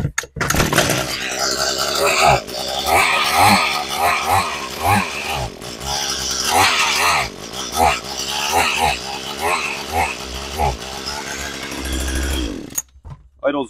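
A small two-stroke engine on an Echo HC-150 hedge trimmer runs steadily at a loud, close idle with a buzzing, slightly uneven drone that cuts off abruptly near the end.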